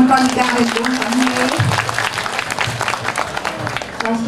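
An audience claps at a live event while a voice carries a sustained tone at the start. The applause continues as a busy, crackling patter under ongoing voices.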